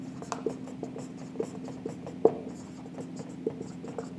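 A pen writing a narration entry on paper, scratchy strokes in a quick irregular rhythm with a few sharper taps, close and clear over a faint steady hum, no talking.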